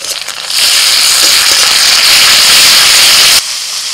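Ginger, garlic and green chilli paste frying in a pan after the onions, giving a loud, steady steamy hiss that holds for about three seconds and then cuts off abruptly.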